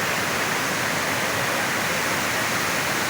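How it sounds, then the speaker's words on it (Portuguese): A series of waterfalls cascading in a natural reserve pours out a steady, dense rushing roar with no pauses or voices. "E as quedas d'água aqui são sucessivas."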